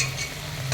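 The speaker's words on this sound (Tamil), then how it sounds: "இது மிளகா போட்ட அப்புறம் கொஞ்சம் லைட்டாக மிக்ஸ் பண்ணிக்கலாம்" A spoon stirs chili into chicken curry in a hot pan, a short close scraping swirl over a soft, continuous sizzle of frying.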